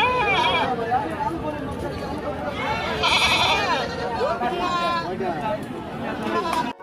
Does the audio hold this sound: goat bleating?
yes